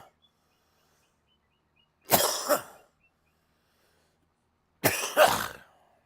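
Two separate coughs, each a sharp, loud double burst from close by, break an otherwise near-silent stretch, spaced a few seconds apart.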